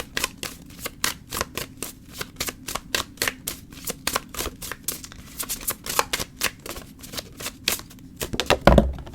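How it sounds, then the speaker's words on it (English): Astrological oracle cards being shuffled, a long run of rapid, evenly spaced riffling snaps, close and fairly loud, with a brief louder clatter at the end and no talk. "I'm going to pull some astrological oracle cards"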